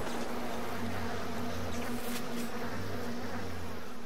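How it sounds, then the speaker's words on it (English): Swarm of bees in the video game BioShock, a continuous low droning buzz with a steady pitched hum, moderately loud and unbroken, no voices over it. "Stuck with all the bees."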